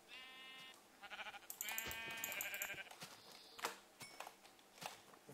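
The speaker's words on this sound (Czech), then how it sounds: "našel jsem nějaký ty ovce" Sheep bleating in the Minecraft video game, several wavering bleats in a row along with short clicks and taps, faint throughout.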